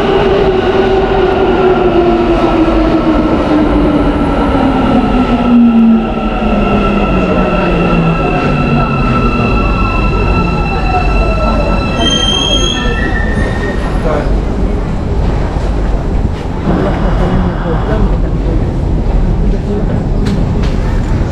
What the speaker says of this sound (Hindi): ये इस तरफ से आ रही है मेट्रो इनकी